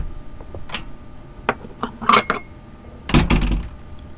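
Plates and dishes clink and clatter in a home kitchen, a series of sharp ceramic knocks and scrapes close by, with a louder cluster of clattering near the end, no talk over them.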